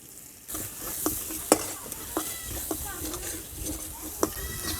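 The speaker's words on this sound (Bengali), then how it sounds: "মশলাটাকে ভালোভাবে নাড়চাড় করে নিচ্ছি" Spice paste for a small puti fish curry being stirred and fried in a pan with a little water: a continuous close sizzle broken by repeated sharp spoon scrapes and taps against the pan, with no talk.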